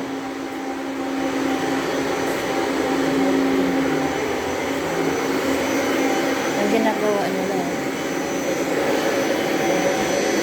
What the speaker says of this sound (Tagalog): Vacuum yan para sa kortina, sa bed, pangsuyop ng alikabok kumbaga.